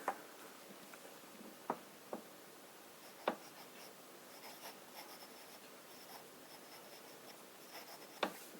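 A fountain pen with a medium nib writes on paper in Diamine Twilight ink, giving faint, soft scratching strokes broken by a few sharp taps from the nib or paper. The whole passage is quiet and close, with no voice.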